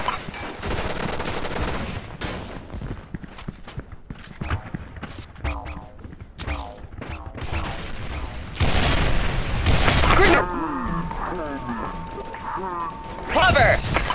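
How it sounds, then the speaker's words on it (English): Grenade blasts and rapid gunfire in a video game, scattered loud bangs and crashing explosions with bursts of shots, mixed with shouted voice lines and other game sounds throughout. "Grenade! Frag out! Fire in the hole! We are under attack!"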